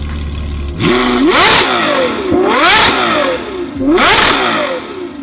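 A Ferrari 6.5 liter V12 engine of 800-plus horsepower revs hard three times in a row, each rise climbing to a high scream before dropping back, loud and close.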